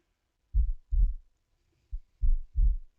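A deep, bass-heavy heartbeat sound effect thumps in two lub-dub pairs and a partial third, low and booming against silence.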